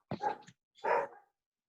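A dog barks twice, two sharp separate barks with a brief pause between, fairly close and loud.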